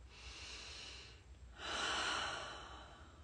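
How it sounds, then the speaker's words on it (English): Deep, drawn-out breaths during a guided breathwork session: a long airy exhale, a brief pause, then a fuller, louder inhalation close to the microphone, with no talking. "Got a few more breaths."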